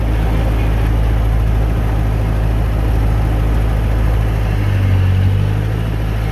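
An old Massey Ferguson TO35 tractor engine runs loud and close with a steady low rumble, a slight shift in tone midway as it is driven.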